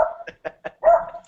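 A dog barks nearby in a quick burst of four or five sharp yips and barks, with a slightly longer final bark.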